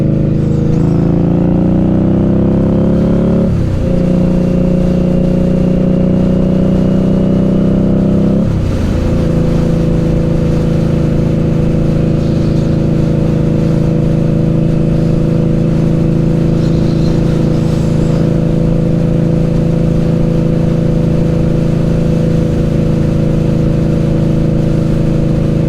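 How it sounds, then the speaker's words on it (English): An Indian Scout Bobber motorcycle engine revs and pulls hard while riding in Florida, a loud, steady drone that climbs in pitch with two brief dips at gear shifts before holding strong. "But this bike will get up and go."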